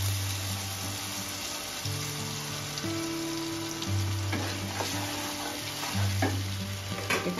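Spice paste frying in oil left over from frying pointed gourd, giving a low, steady sizzle with occasional stirring clinks near the end over a background hum.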